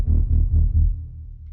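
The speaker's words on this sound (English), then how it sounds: "And then we have a simple explosion sound effect." A simple explosion sound effect sits in a sound-design session as a deep, heavy rumbling throb that pulses several times before fading into a low tail.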